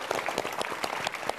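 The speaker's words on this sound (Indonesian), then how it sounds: "tepuk tangan dari Jogja" Audience at a televised stand-up comedy battle in Jogja applauding a team, a brief dense burst of clapping heard up close and alone.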